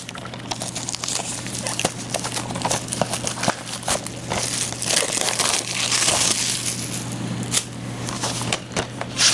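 Plastic packaging on an anime DVD set being torn and crumpled by hand, a steady run of crinkling and crushing rustles with a few sharper snaps, close and continuous over a low steady hum.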